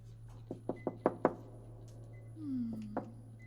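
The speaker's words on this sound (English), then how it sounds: "Knock." Five quick knocks rap on a locked door in the video game Becrowned, evenly spaced and fairly close, followed by a low sliding groan and a final thud over a steady hum.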